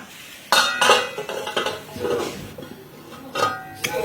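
A spoon stirs pumpkin stir-fry in a pot, scraping and clinking against the metal in a few uneven bursts, close and fairly loud with no talking.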